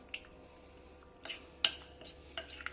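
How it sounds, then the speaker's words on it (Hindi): Chicken BBQ rice with soy sauce is stirred with a utensil, producing a few sparse scrapes and clinks against the pot, isolated, close and fairly quiet. "अब मैं मिक्स करूँगी इसको दोबारा से"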